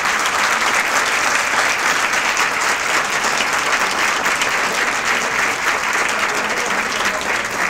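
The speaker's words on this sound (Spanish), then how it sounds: "fuerte el aplauso para todos ustedes" Audience applause at a closing ceremony for an internal economics and finance diploma course, a dense, even wash of clapping that holds steady and loud throughout without a break.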